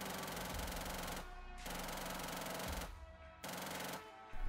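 Rapid automatic AK rifle fire in the survival game Rust, sustained bursts of dense shots broken by short pauses, loud and close.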